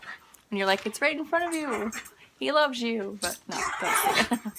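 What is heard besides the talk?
dog playing and whimpering in the background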